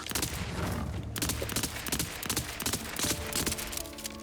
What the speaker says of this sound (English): the pistol definitely seems to fire faster